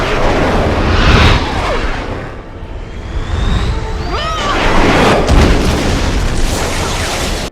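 A rocket launcher explosion in a Christmas movie, heard as a loud, sustained booming blast with crashing debris and roaring rumble filling the scene throughout.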